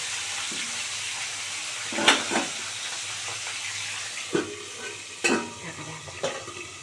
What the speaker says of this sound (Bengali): একদম ভালো করে কড়া করে ভাজা হয়ে গেছে